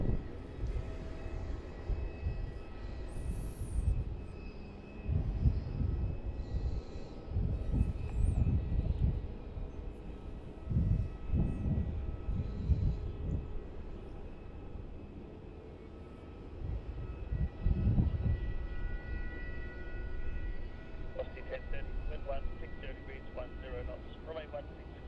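Airliner at Melbourne Airport taxiing and taking off, its distant engine roar swelling and fading in long surges under ongoing talk and radio chatter.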